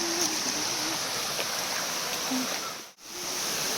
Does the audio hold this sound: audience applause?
no